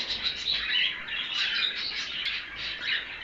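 Caged cockatiels and other birds chirping at a bird market in Mirpur, a dense continuous chatter of high tweets and squawks, moderately loud with no talk.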